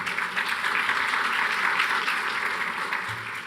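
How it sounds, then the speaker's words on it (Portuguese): An audience at a panel session claps in steady, continuous applause for a few seconds, filling the hall evenly and tapering slightly at the end. "Uma salva de palmas, por gentileza."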